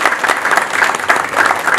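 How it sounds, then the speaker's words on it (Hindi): Loud, continuous applause from a television studio audience fills the space, steady, dense clapping with no one speaking over it. "एक बार फिर से जोरदार तालियाँ हो जाए।"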